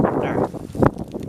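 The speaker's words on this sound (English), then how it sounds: "Sorry, it's really windy out here." Gusty wind buffets the microphone outdoors, a steady low rumble with a stronger gust near the end.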